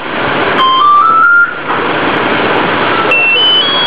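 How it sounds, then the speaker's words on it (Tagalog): A Mitsubishi Montero Sport runs after a remote engine start, with steady close engine noise under rising electronic confirmation tones and beeps from the smart key alarm system. "Pindutin natin ang remote, engine start sa remote."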